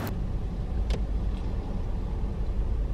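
A car drives along a road on the way to a DoorDash delivery, giving a steady low engine and road rumble with a couple of brief clicks, heard alone without talk.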